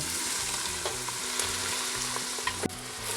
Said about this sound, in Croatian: sada na vrelo ulje dodajem povrće